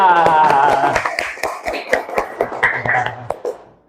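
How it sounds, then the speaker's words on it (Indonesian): A classroom of students applauds a student group, scattered uneven claps rising under loud overlapping voices and chatter, thinning out toward the end. "Beri aplaus untuk kelompok 2."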